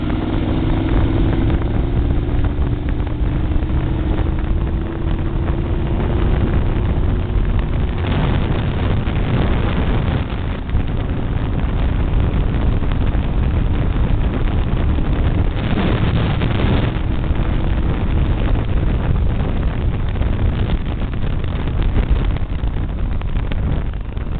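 Yamaha Venture touring motorcycle accelerating at wide open throttle in fifth gear from about 25 mph: a steady engine drone with a faint rising tone early on, largely buried under loud, continuous wind rush.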